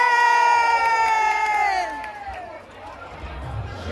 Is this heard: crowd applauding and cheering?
yes